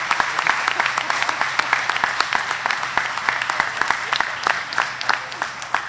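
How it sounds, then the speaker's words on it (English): Applause for children at a press conference, a full crowd clapping continuously with distinct sharp hand claps popping out of the steady wash, close and fairly loud throughout. "How about a round of applause for these children"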